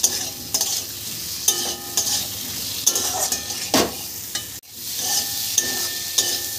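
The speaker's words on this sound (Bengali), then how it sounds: "মশলার সাথে আলু পেঁপেটাও ভালো করে কষিয়ে নিলাম" Fried potato and papaya pieces are stirred into a cooked-down masala, with repeated close spatula scrapes and knocks against the pan over a soft, continuous sizzle.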